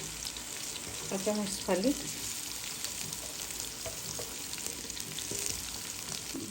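Onion and garlic frying together in a pan give a constant, moderate sizzle, with a short stretch of talk early on over the hiss.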